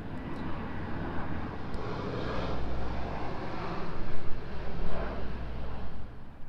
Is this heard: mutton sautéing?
no